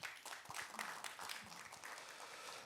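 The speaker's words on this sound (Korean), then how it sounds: "다시 한번 큰 박수를 보내주시기 바랍니다" Audience applause for a presenter at an environmental education forum session, a steady wash of many hands clapping that holds fairly even for the whole stretch with no talk over it.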